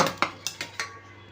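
Grated carrot goes into a bowl of bhaji batter paste: several sharp metallic clinks of a spoon against the bowl ring out close and clear, then fade into quiet room noise.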